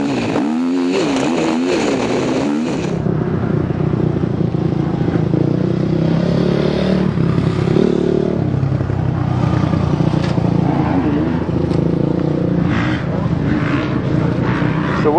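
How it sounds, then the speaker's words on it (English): A KTM XFS motocross bike's engine revs loudly and steadily for the whole stretch, its throttle swelling and dipping, with a voice briefly audible over it near the start. "XFS motocross bike."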